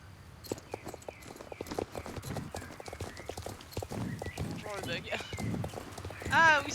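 A generation 3 Friesian horse in the video game Star Stable clip-clops along at a steady walking rhythm, hooves close and clear, with a brief whinny near the end and someone talking over it.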